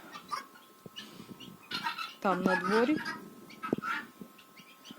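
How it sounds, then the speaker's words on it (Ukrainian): Chickens just let out in a farmyard cluck and squawk nearby, with one loud drawn-out call in the middle, while someone speaks quietly in Ukrainian. "Вже випустила курей"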